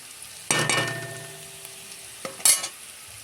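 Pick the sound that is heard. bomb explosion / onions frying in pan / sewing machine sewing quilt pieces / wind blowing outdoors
onions frying in pan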